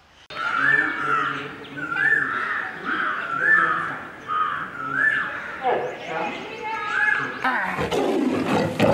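A lion at the Rajiv Gandhi zoo, kept cool with foggers, gives repeated deep roaring calls in a steady series, loud and close, with birds cawing faintly around it.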